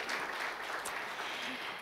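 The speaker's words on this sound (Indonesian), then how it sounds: "Sekali lagi tepuk tangan yuk buat Tuhan kita Yesus Kristus" A church congregation claps together in praise, a dense, even patter of many hands heard steadily throughout the short moment.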